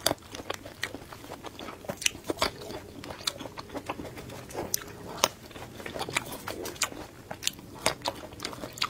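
Sweet niangmu fruit being bitten and chewed up close: a rapid, uneven run of crisp bites and wet chewing crunches, moderately loud, with no talk.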